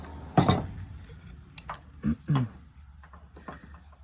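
Metal parts of an impact garden sprinkler click and clatter as they are unscrewed by hand: a few short, close ratcheting and knocking sounds separated by quiet gaps, with no speech.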